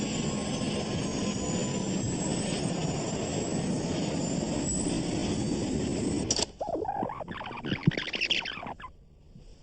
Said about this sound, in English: Video of the crash picked up the distinctive sound of the A320's engines accelerating.